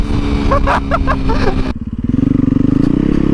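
A 2019 Yamaha YZ450FX street-legal supermoto bike's engine revs up loud and close, its pitch climbing steadily in the second half after a short stretch of mixed noise and voice at the start.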